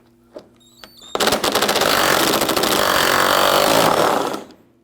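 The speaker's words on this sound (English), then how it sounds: "Using a 10mm socket, we're going to remove this bolt here." Power tool with a 10mm socket removing a bolt from the front inner fender liner of a 2004-2008 Acura TL. A couple of faint taps come first, then a loud, harsh, continuous whirring rattle lasts over three seconds before it stops.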